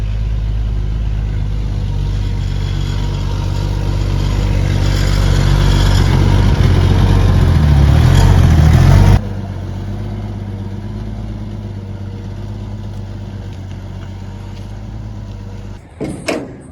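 An old Ford F100 truck engine runs loudly with a deep, rumbling, tractor-like idle that swells and roughens, then drops to a quieter steady chug, ending with a few sharp knocks.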